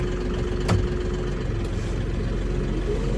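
A farm tractor with a tiller hooked up runs at a steady idle, giving off an unbroken low, heavy rumble at close range with one brief sharp knock early on.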